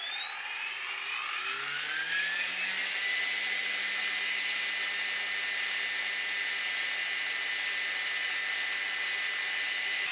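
An RC helicopter driven by an Ego Drift 4035HT 400 kV motor at a 9.42 gear ratio spins up with a rising whine, then holds a loud, steady high-pitched drone close by.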